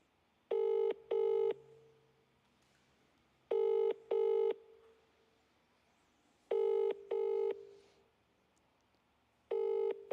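An outgoing telephone call rings unanswered, sounding a clear double-burst ringback tone four times at even intervals with quiet gaps between, alone and fairly soft.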